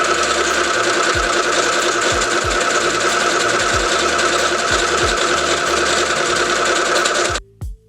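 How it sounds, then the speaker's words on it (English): A sewing machine stitches buttonholes on a shirt, its motor whirring steadily with a rapid mechanical rhythm and periodic thumps for about seven seconds before stopping abruptly, loud and close. "So I used my button to make buttonholes like this."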